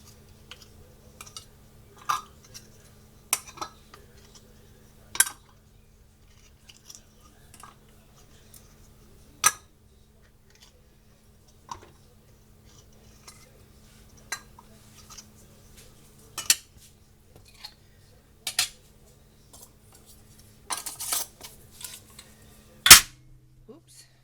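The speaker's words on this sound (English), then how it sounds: "Okay, put our lids on." Metal canning jar lids and rings are set on glass jars and twisted tight, giving scattered sharp clicks and clinks over a quiet background with a low hum, ending in one loud clack.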